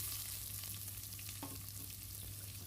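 Chopped onions dropped into hot oil with popped mustard seeds for a Jaffna-style egg curry, giving a steady close sizzle and frying hiss with a few soft stirring scrapes, no talk.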